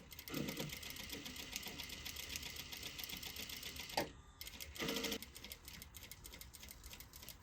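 A sewing machine runs in steady close bursts as it stitches a dart along a line on fabric. Its rapid mechanical whir is broken by a brief pause and a short restart, with no voices.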